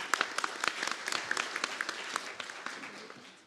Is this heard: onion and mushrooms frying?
no